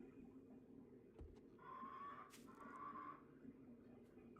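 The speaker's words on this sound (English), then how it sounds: "I hear a bird." A bird calls in the survival video game 7 Days To Die, a moderately faint warbling call that repeats in two bursts over a low, steady ambient background.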